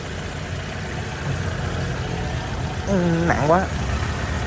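A 2011 Chevrolet Aveo with a small 1.5-litre four-cylinder engine and manual gearbox idles with a steady, moderate hum, while a person speaks briefly over it near the end.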